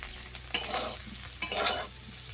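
Cauliflower frying in a pan is stirred twice, each stroke a close scrape followed by a rising sizzle, over a soft continuous frying hiss.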